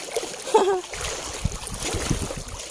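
A dog tumbling into a river sends up a brief, close splash near the start, followed by flowing water and rustling movement, with a voice talking over the scene.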